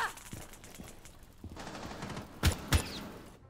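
Gunfire in the video game Rainbow Six during a 4v4 college match: a few scattered muffled shots, then two sharp, loud bursts close together near the end, over steady game noise and a faint voice.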